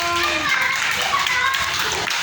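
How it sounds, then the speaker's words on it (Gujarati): Young children at an Indian anganwadi preschool clap together as a group, a close, continuous patter of small hands mixed with children's voices and an adult talking over it. "સરસ, તાળી પાડો બધા બાળકો"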